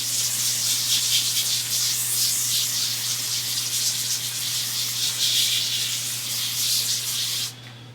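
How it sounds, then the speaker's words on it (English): A steady hiss of cooking oil sprayed onto a sheet pan for several seconds over a low hum, cutting off abruptly near the end. "What I'm going to do now is spray this sheet pan with oil"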